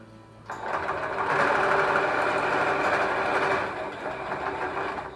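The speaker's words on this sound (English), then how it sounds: "I'm gonna sew across this." A sewing machine stitches across a fabric loop for holiday decor, its rapid mechanical whir starting abruptly and running steadily and loudly up close before easing slightly toward the end.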